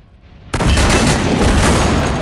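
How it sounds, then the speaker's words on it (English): A grenade explosion in the World War Heroes shooter game bursts suddenly after a short quiet lead-in, then a loud, broad roar sustains without fading. "Grenade!"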